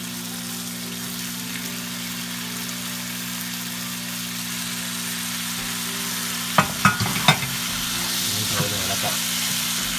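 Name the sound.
beef frying and being stirred in a pan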